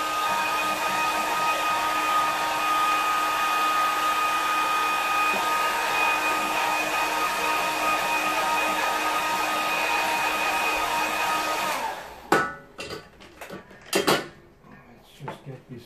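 A hair dryer blows steadily and loudly at close range over a watercolour painting of a harbour, then cuts off, followed by a few clatters and clicks.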